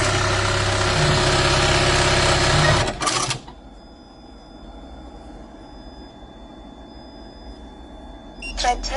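A Juki LBH-1790S-S buttonhole sewing machine runs loudly and steadily for about three seconds, then stops with a clatter. A quieter hum with faint tones follows, and the machine starts briefly again at the end.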